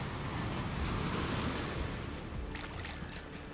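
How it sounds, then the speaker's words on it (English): Ocean surf rolls in an Unreal Engine 5 island scene recreating the LOST island, a steady, full wash of breaking waves that stays loud throughout, with a few brighter splashy bursts near the end and no voices. "Listen to the sound of the ocean, the sound of the waves."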